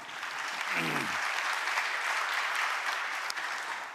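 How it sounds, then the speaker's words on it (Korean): Sustained audience applause fills a hall after a presenter is introduced at a government policy briefing on national balanced growth, steady and dense throughout, with a brief voice near the start. "박수 부탁드립니다"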